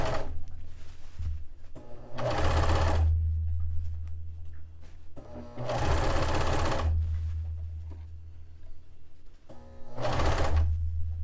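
A serger sewing machine cutting and stitching fabric from bed sheets for a dress, running in three loud bursts of steady whirring, each lasting about a second, with quiet pauses between them.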